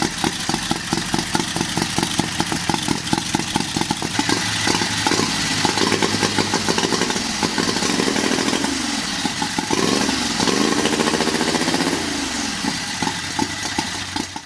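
A turbocharged 670cc buggy engine idles with a fast, loping pulse, then revs up and down a couple of times before settling back, loud and close.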